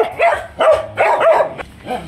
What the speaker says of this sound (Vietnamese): Bé cún Bẹt Rê này không có nằm một chỗ cô chú, mà con đi lung tung.